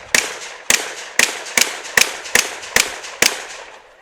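Rifle shots at a shooting competition, fired left-handed: eight sharp, loud reports at fairly even intervals of about half a second, each with a brief decaying echo.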